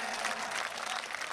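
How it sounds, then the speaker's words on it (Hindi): Audience applause at a mushaira, an Urdu poetry gathering, a short dense burst of clapping from a large crowd, steady and fairly loud. "आप एक बार ताली बजा दें तो थोड़ा सा माहौल फिर से बन जाए।"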